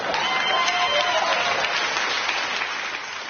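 An audience breaks into loud, sustained applause, a dense wash of clapping that fills the whole stretch and tapers only slightly at the end.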